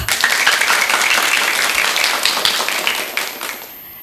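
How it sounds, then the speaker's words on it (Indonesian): Meriah applause from an audience at a children's storytelling event at an Indonesian primary school, dense clapping filling the moment and fading out near the end. "Mari tepuk tangan yang meriah"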